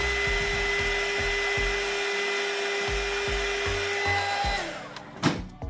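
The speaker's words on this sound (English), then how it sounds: "Then you take your heating gun" A heat gun warms a light strip on an Arrma Senton 4x4 RC car, giving a steady close blower whine with a pulsing low rumble, then cutting out into a brief knock at the end.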